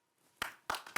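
Three sharp bursts of hand clapping at a family award presentation, loud and close, spaced unevenly as if from one or two people, with no talk.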